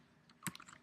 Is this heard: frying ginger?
no